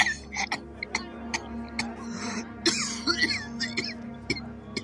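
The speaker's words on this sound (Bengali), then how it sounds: "তার কাশি শুরু হলো" A man coughs in a series of short, harsh bursts after drawing on a cigar, heard close up with scattered sharp throat sounds and no voices.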